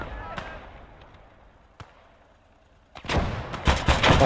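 A 2cm autocannon fires in the WWII game Gates of Hell, a couple of isolated bangs giving way to a dense burst of heavy rapid shots at the end, loud and close.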